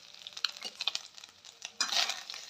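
Freshly grated wet coconut from one whole coconut stirring and sizzling in a pan, soft scraping strokes with a brief louder burst of frying, no voices.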